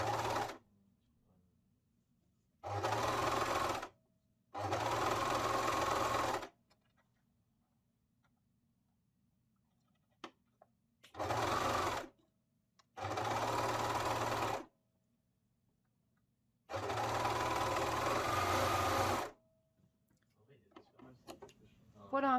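A domestic sewing machine stitches a seam on an Urban Fairy Georgia garment in five separate bursts of rapid whirring, each a second or two long, with quiet pauses in between.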